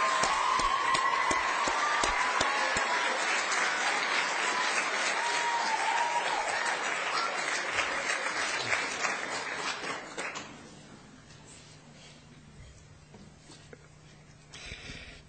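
An audience at a state civics showcase applauds its teachers, a full, loud wash of clapping that runs about ten seconds, then thins out and dies away to scattered claps and room noise.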